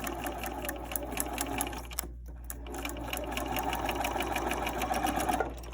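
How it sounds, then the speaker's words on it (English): Sewing machine stitching two quilt block pieces together, a steady continuous whirring hum with fast needle ticking, briefly pausing midway before resuming louder and close up. "So now I'm going to sew along, making sure I remove my pins."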